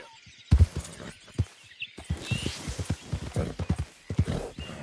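Horse hooves clip-clop in Red Dead Redemption 2, a run of sharp irregular hoofbeats under a voice repeatedly urging the horse on.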